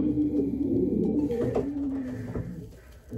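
A pigeon coos in low, soft, repeated calls close by, with faint background noise around it.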